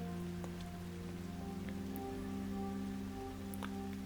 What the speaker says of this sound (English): mixing it with the sounds of rain is quite relaxing